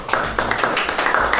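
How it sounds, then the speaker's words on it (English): Audience at a tattoo expo clapping, a steady patter of many hands, fairly loud with a low background rumble from the hall. "So, round of applause."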